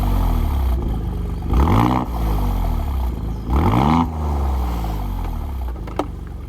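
A Alfa Romeo Giulia Quadrifoglio with switchable exhaust valves open idles, then gives two sharp revs that climb and fall, with a short blip near the end.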